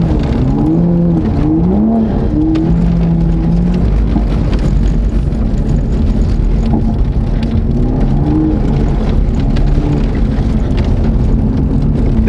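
A Toyota Supra rolls along a dirt road, its engine and tyre rumble steady and loud throughout, with a few brief rising engine tones early on and wind buffeting the microphone.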